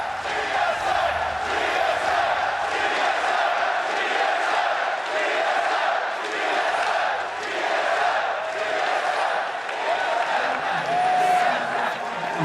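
A large esports arena crowd at the 2016 League of Legends World Championship group stage cheers and chants continuously, a dense, loud roar of many voices sustained throughout.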